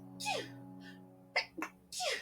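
A run of several quick sneezes in close succession, sharp bursts with a short pause between, near and moderately loud over a low steady background hum.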